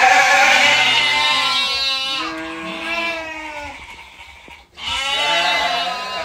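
Sheep bleating on a farm, several loud, wavering cries close by in quick succession, with a short pause before another burst of bleats; no talking.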